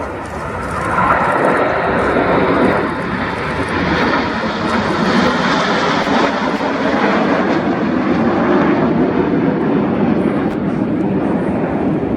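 A Red Arrows BAE Hawk T2 jet roars past during a flying display at RIAT 2025, a loud, sustained, rushing engine roar that fills the whole stretch without letting up.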